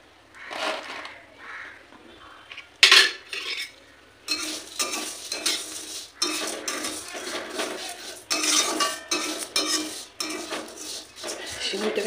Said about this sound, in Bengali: সিমুইটা একটু ঘি দিয়ে দিয়েছি কড়াইয়ে, সিমুইটাকে একটু ভেজে নেব